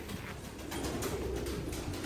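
Soft, low cooing of pigeons, continuous and close, over a dense background hiss with no talking.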